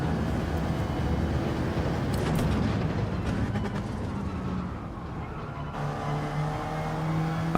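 A car in a racing video game time trial, a steady engine drone with shifting pitch and a few brief clicks, continuous and moderately loud throughout.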